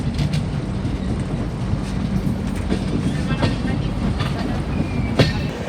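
The Secunderabad to Jammu Tawi Humsafar Express runs on its tracks, heard from inside as a steady rumbling roll with faint clickety-clack and occasional metallic ticks.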